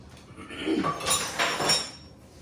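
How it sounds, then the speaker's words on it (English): Metal spoons clinking and scraping against a mixing bowl as they are pushed aside while mixing biscuit dough of flour and buttermilk, a few close, fairly loud clatters spread over a couple of seconds. "Let's get these spoons out of the way."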